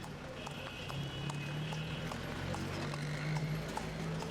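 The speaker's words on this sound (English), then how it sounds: "Here the horse cart is not a tourist attraction, but is everyday transport." Hooves of a horse pulling an everyday transport cart clip-clop at a steady pace along a street in a Tunisian town, fairly distant and soft beneath a continuous low hum.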